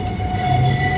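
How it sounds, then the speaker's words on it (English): A train rumbles through Amsterdam Sloterdijk station, with a loud, steady low roar and a sustained metallic wheel squeal ringing over it, close and continuous with no speech. "Here at the train station, about to go to my hotel"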